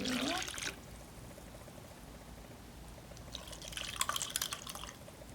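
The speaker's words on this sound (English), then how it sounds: "And then we're going to add 3 cups of water." Water poured from a cup into a container holding dry water beads, a brief splashing pour at the start and another later, with faint trickling between, in a quiet room.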